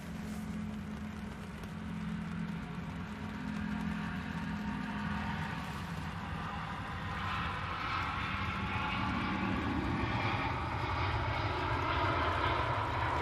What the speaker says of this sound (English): Bit of A350 power there.